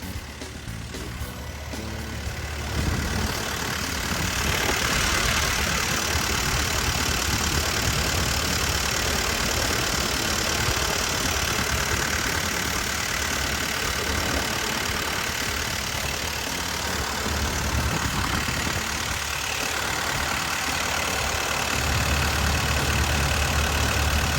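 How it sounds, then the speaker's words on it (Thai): A Komatsu PC120-11 12-ton excavator's diesel engine idles steadily and loudly up close, a continuous rumbling drone with a slight knocking texture throughout. "เสียงเครื่องการทำงานของตัวเครื่องยนต์ของเขานะครับก็ทำงานได้ นิ่มแน่นดีปกติ"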